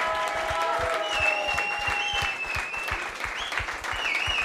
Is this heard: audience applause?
yes